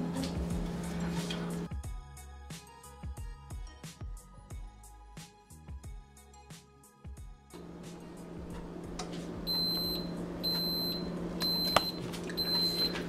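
Repeated electronic beeps from a waffle maker sound in a short steady pattern near the end, over a kitchen hum after a stretch of rhythmic knocking and clatter.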